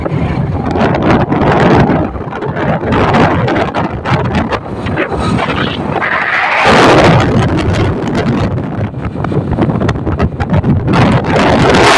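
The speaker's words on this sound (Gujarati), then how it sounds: "પવન ફૂલ છે એટલે પવન ફૂલ છે" Strong wind gusts across the open Alang Sunday market in Gujarat, a loud, continuous roaring rush buffeting the microphone for the whole stretch with no speech over it.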